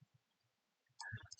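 A quick cluster of sharp clicks near the end, after near silence, close and fairly crisp.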